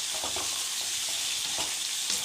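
Boiled vegetables sautéing in hot oil, a dense continuous sizzle with soft stirring scrapes, close and steady throughout, no voices.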